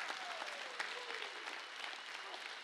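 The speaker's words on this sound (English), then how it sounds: "give God a hand clap" A church congregation gives a full, steady round of applause during a sermon, dense clapping that holds at an even level with a voice faintly audible underneath.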